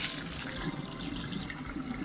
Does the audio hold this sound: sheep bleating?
no